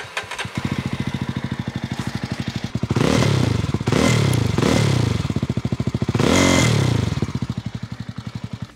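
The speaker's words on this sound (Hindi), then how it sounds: "Now is the time for the exhaust note of this motorcycle." A 2024 Jawa 350 motorcycle with a dual exhaust idles with a steady thumping beat, then is revved sharply several times, each blip rising and falling, with one longer rev near the end, loud and close, no talk.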